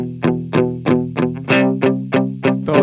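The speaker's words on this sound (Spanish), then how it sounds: "Quedó algo como así, vea. Como si no tuviera casi distorsión." Electric guitar played through an effects unit with very little distortion, about eight separate picked notes or chords at a steady pulse, each ringing out and decaying, close and loud.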